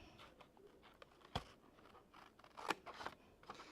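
Scissors snip through card being cut into box pieces with several sharp, crisp cuts close by, spaced unevenly over a quiet background.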